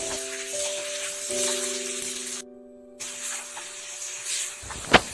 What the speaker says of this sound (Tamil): அடுத்து தேவையான அளவு உப்பு சேர்த்து நல்லா வதக்கிக்கலாங்க.